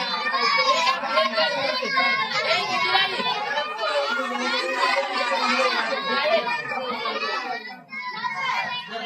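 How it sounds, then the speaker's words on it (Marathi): Lively crowd of children bustling through a school children's bazaar at a Zilla Parishad school in Shenwadi, with many young voices chattering and calling at once, steady and close throughout. "भरपूर प्रमाणात गर्दी आहे बाजारामध्ये"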